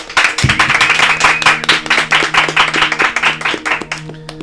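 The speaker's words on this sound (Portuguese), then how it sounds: "Então eu quero que vocês recebam com forte aplauso Flávio Augusto e Thiago Nigro" Loud, close applause from a live podcast audience welcoming two guests, with rapid overlapping hand claps at a steady pace and a faint tonal background sound running beneath them.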